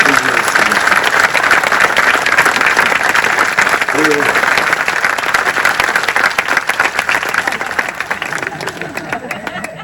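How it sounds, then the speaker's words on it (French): Audience applause at an open-air theatre performance of a comedy play, dense steady clapping filling the whole stretch and tapering slightly toward the end, with faint crowd murmur underneath. "On peut les applaudir aussi."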